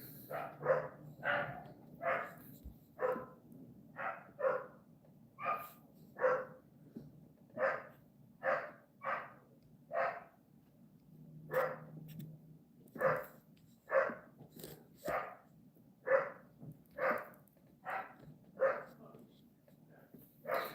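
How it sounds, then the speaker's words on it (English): Dogs bark downstairs in a steady series of muffled, fairly distant woofs, roughly one per second for about twenty seconds, over a low indoor hum. "Sounds like my brother's dogs are going nuts downstairs."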